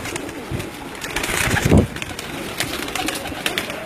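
Pigeons coo on a rooftop, a loud low coo swelling near the middle and softer calls around it, close by with light background noise.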